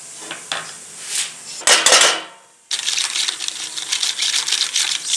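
Water poured into couscous in a home kitchen, with a few clinks of dishes and utensils, then a steady splashing gush that carries on to the end.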